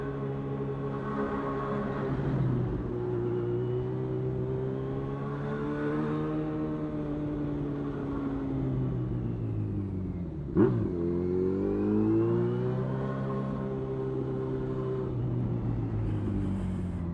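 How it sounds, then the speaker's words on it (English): Heavy London traffic from the seat of a motorcycle, a steady engine hum with gear and rev shifts rising and falling throughout, plus one sharp transient midway as the bike moves through congested streets. "It seems to be absolutely clusterfucked with traffic."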